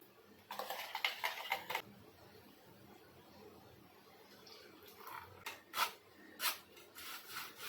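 Sol kadhi mixture being strained by hand, with a brief cluster of wet scraping and rubbing sounds, a quiet pause, then further short squeezing and scraping bursts, close and soft, with no speech.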